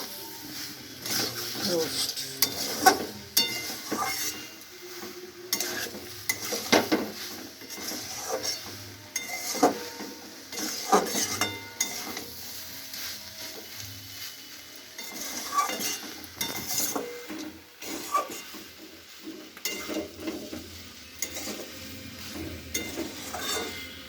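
Soybean roast being stir-fried with spices in a pan, intermittent spatula scrapes and clinks over a soft sizzle, with a person speaking over the cooking.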